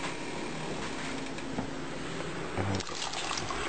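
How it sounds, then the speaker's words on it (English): Vanilla extract poured gently into homemade rice pudding, a steady liquid trickle lasting a few seconds, close and fairly quiet, with a brief stir-like bump near the end. "And now it's time for the vanilla extract."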